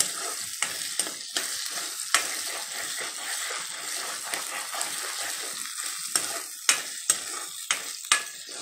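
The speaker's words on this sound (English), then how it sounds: "you can see the onions and green chilies are getting fried evenly and turning color into brown" Onions and green chilies fry in oil for a brinjal tomato curry, giving a steady close sizzle with occasional sharper crackles and pops spaced irregularly throughout.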